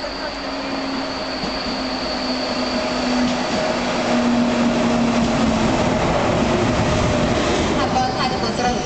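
A KTX high-speed train bound for Seoul pulls into platform 3 at a Korean railway station. A loud, steady rolling rumble and rail hum carry throughout, with faint sustained tones riding above the noise.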